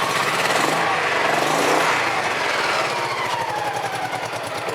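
A Honda PC800 motorcycle engine runs steadily after a carburettor cleaning, a loud, continuous, rough idle with a rapid pulsing beat close by, with no voices.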